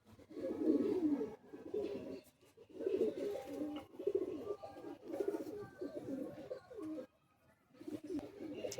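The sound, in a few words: pigeons cooing in a loft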